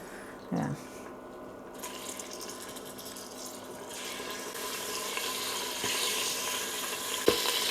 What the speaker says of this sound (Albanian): Tash ti mor dhe ju hudhi qik voj tenxheres, du të ka vërdis vetëm pak mishin.